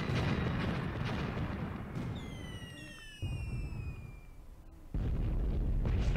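Artillery bombardment in the war game Graviteam Tactics: a dense, rumbling barrage of distant explosions with whistling incoming shells descending overhead, the roar dipping briefly then surging loud again.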